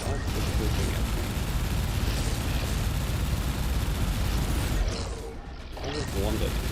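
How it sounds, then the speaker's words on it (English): Dense, continuous barrage of weapon fire and explosive booms from enemy ships in the space shooter Everspace 2, loud and unbroken, dipping briefly near the end. "Something else is shooting at me."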